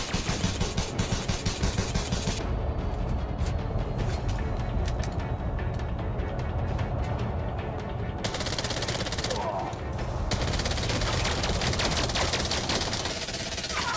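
Sustained automatic gunfire from a ground-combat firefight in the Elite Dangerous video game rattles on in dense rapid bursts, loud and continuous, with brief breaks in the crackle of shots.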